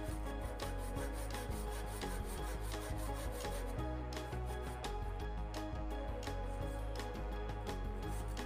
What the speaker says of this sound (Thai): ใส่เลื่อยตัดประมาณนี้แล้วเราก็มาหัก